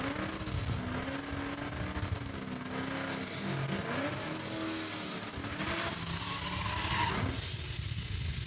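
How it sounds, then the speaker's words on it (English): A 1993 Ford Mustang drag races down the left lane at a Saskatchewan raceway, its engine screaming loudly and close with wavering revs through the run, then tapering off as it pulls away; no talking is heard. "Left-hand lane making all that noise with the 93 Mustang is Chad Penner out of Martinsville, Saskatchewan"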